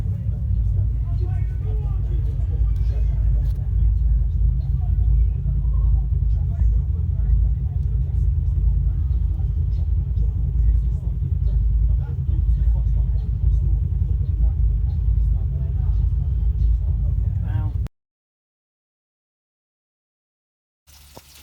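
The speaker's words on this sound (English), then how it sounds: "I'm so bothered by the traffic." Heavy road traffic with big vehicles rumbles past nonstop outside a parked camper van, a deep loud engine drone with passing vehicles, then it cuts to near silence.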